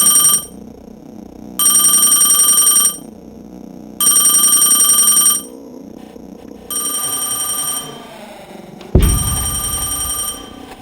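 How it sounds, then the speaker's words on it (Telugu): A telephone rings in repeated loud bursts with silent gaps between them, ending in a sharp thud and a lingering tone. "రే, నీకు రింగ్ సౌండ్ వినిపిస్తుందా?"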